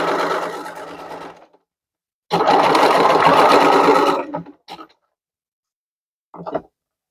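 A sewing machine stitches a seam on a toiletries bag in two loud, close, steady runs, then stops and gives a few short reversing bursts near the pins, with silent pauses between.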